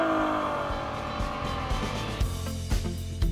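Ferrari GT with rear-wheel steering driving through hairpin bends in back-country hills: a sustained engine note sweeps downward in pitch, with brief tire squeals and thumps near the end.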